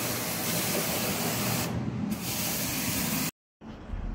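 A pressurized water spray blasts steadily against removed cassette air conditioner parts during a service wash, a loud continuous hiss that briefly shifts and cuts out for a moment before resuming.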